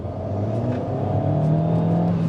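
Alpine A110 sports car in sport mode, its engine note rising steadily as the car accelerates, a continuous loud hum and drone from inside the cabin with no talk.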